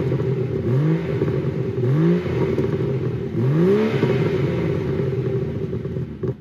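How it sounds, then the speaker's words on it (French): A distinctive car revved with its exhaust valve closed, giving three sharp throttle blips that each rise and fall over a steady, muffled idle rumble, heard close with no talking. "Je vais vous faire écouter le bruit du moteur"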